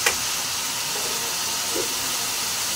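Water poured over browning meat in a pan for pancit fries with a loud, steady hiss that carries on evenly to the end.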